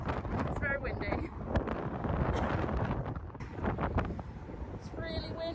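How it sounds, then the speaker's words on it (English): Strong seaside wind roars and buffets the microphone in a constant, loud rush, with faint voices now and then beneath it. "It's very windy."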